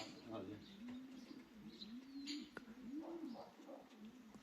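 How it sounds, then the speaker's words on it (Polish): Racing pigeons cooing as they arrive back at a loft after a young-bird race, soft repeated throaty coos at close range, with people talking quietly nearby. "Dwa gołębie."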